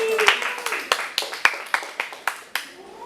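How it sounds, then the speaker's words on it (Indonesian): A class of students claps for a classmate during a mathematics microteaching lesson, a dozen or so sharp, uneven claps close by, thinning toward the end, with a voice speaking briefly at the start. "Oke, tepuk tangan semua buat Faiza."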